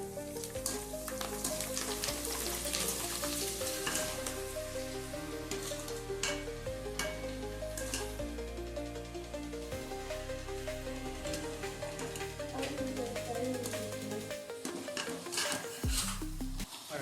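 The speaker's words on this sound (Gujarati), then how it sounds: "રાઈ ને ડુંગળીનો વઘાર તો થઈ ગયો ચાલુ." Mustard seeds and onion sizzle in hot oil while being stirred in a pan, a steady close crackle with clinks and scrapes of a utensil and no talk.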